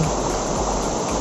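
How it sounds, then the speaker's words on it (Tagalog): Gently flowing river water at a trail crossing near Hulugan Falls in Luisiana, Laguna, a steady broadband wash of moving water heard up close, continuous and fairly loud with no voices. "So mahina naman yung agos ng tubig dito."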